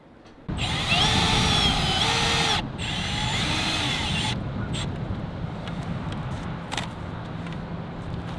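A power drill drives fasteners while a DIY adjustable track-and-field hurdle is assembled outdoors, whirring loudly and close in two bursts before falling to quieter background noise for the last few seconds.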